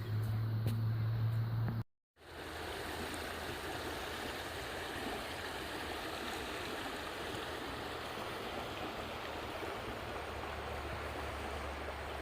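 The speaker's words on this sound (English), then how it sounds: "This is our river." A river flows near a roundhouse in the woods as a steady, broadband rush of moving water, close and constant, after a brief moment of other noise and a short dropout at the start.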